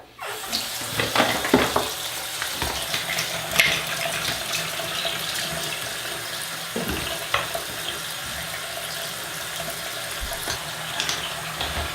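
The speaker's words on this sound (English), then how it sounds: "Just clean everything really well with nice hot water." Hot water runs steadily from a tap to rinse an enema bag, a continuous splashing hiss with occasional louder gurgles and knocks as the bag is moved under the stream.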